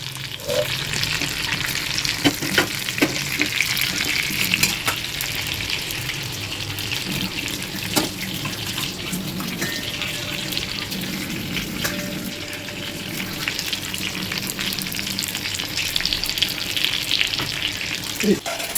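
Whole eggplants pan-frying in an iron pan, a steady close sizzle broken by clinks and scrapes as they are turned over again and again.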